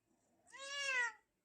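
A single cat meow, clear and close, rising and holding for about a second before cutting off into silence.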